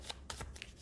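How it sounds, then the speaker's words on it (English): A deck of game cards from the Pathfinder Adventure Card Game is shuffled in a few quick riffling bursts, close and clear, with no talk. "Those are going to get shuffled"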